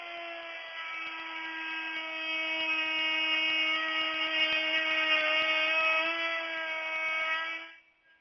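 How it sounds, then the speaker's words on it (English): Router fitted with a top-bearing bit cutting timber, a loud steady high-pitched whine that holds for several seconds with a slight rise in strength, then cuts off abruptly at the end. "Running a top-bearing router bit around the template produces a small lip"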